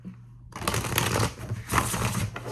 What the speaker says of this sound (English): Shuffle every day, I'm shuffling.